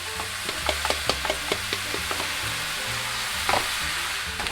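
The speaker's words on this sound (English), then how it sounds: "Let it sizzle and develop a smoky flavor." Stir-fry sauce for chicken breast and vegetables sizzles and crackles steadily in a hot pan, with occasional scraping and stirring clinks over the constant frying hiss.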